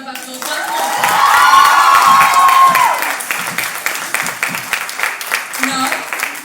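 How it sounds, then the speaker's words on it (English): A crowd at a school investiture and valedictory ceremony applauds, clapping and some cheering swell loudly at first and then taper off, with a voice rising over the clapping before it fades. "Give yourselves a big round of applause once more."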